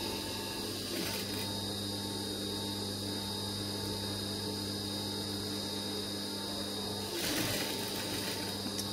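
A sewing machine stitching fabric, a steady mechanical whir with a constant hum running throughout, fairly quiet and close, with brief louder bursts near the start and end.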